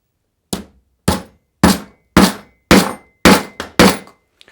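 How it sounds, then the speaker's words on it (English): Eight sharp hammer blows drive a nail fixing model railway track to a baseboard, struck at a steady, roughly half-second rhythm, each hit close, loud and ringing briefly before a short silence. "I have just used the one nail to secure my track"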